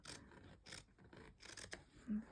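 Quiet rasping snips of scissors cutting through thick denim along a jacket seam, several short strokes in a row, close and soft.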